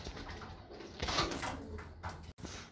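Pigeons coo softly inside a loft compartment, low murmuring calls over a steady ambient hum, with a brief rustle or door-like knock near the end.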